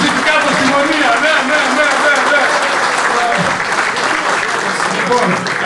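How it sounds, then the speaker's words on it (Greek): Audience applause for pigeon breeders at a pigeon festival in Siatista, a dense, steady wash of clapping filling the room, with voices murmuring underneath throughout. "Να δώσουμε συγχαρητήρια τα παιδιά και τους αξίζει από όλους μας ένα χειροκρότημα"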